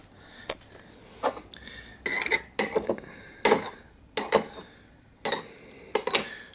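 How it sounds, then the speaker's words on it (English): Porcelain tea cups and ware clink and tap in a quick series of sharp, bright knocks during a fast rinse of Tai Ping Hou Kui green tea leaves, close and fairly quiet with no talking. "I'm going to give it a quick little rinse to get that going in there like so."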